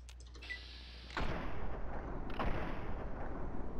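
Scoped .44 Magnum revolver shots in Fallout 3, two loud booming reports about a second apart, each followed by a long rumbling decay over a low game background hum.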